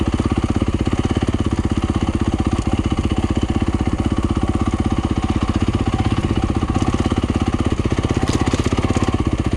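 A Yamaha YZ250F dirt bike engine pulls steadily in second gear without the clutch, making a continuous rapid pulsing chug. It stays loud and close throughout with no voices.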